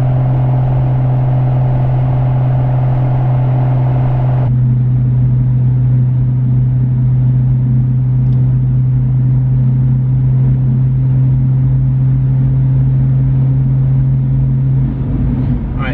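2020+ Toyota Supra with a GR exhaust cruising in sport mode near 3000 RPM, a deep, steady engine drone with a constant low hum and road rumble, heard from inside the cabin.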